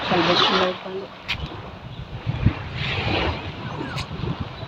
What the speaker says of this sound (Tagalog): Mahangin dito mga kawaraynon.